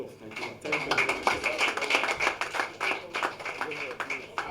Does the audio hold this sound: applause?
yes